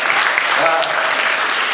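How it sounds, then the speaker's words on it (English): A school winter concert audience applauds for Mrs. LeMay, steady dense clapping filling the room, with a voice talking faintly over it. "Can we have a round of applause for Mrs. LeMay?"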